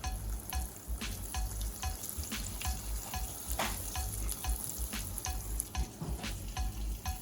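Coconut-crusted butterfly shrimp fry in hot oil with a dense, steady crackling sizzle, broken by regular sharp clicks as pieces are placed or moved. No one speaks.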